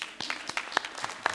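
A small audience at a live-streamed meeting gives a brief round of applause, a handful of separate, uneven claps spread over about a second, moderately quiet.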